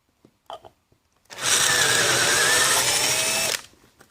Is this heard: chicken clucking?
no